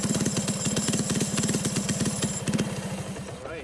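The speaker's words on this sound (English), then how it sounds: "this is pretty much your standard lawnmower engine when you start off" A 3.5 horsepower Briggs & Stratton lawnmower engine powering a supermileage vehicle runs with a rapid, chugging firing pulse, loud and close, then eases off and fades near the end.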